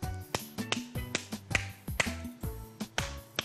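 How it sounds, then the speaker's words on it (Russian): Hand claps from a children's underwater counting show, about eleven sharp snaps in an uneven counting rhythm over a background of musical tones. "Вначале 5 хлопков, а затем 3."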